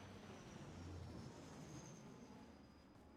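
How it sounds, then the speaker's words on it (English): A helicopter flies close by in a video game, its steady, dense rotor and engine roar filling the whole stretch without letting up, and no voices over it. "That's a helicopter."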